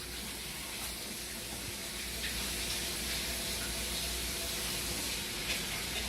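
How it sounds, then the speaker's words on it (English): Tap water runs steadily into a kitchen sink as hands are washed between cooking steps for Italian meatballs and spaghetti, a continuous close hiss and splash with no talking. "Wash your hands real quick."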